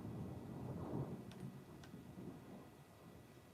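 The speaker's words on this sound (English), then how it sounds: "Do you hear the thunder?" Faint, distant rolling thunder, a low rumble swelling and fading over several seconds at very low volume, with a couple of soft ticks.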